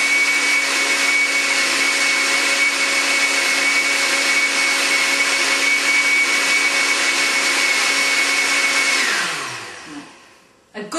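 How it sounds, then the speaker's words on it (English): A blender runs at full speed blending a chocolate and raspberry Herbalife shake, a loud steady whirring drone for about nine seconds before spinning down and stopping. "put the lid on and let's just blend our second shake."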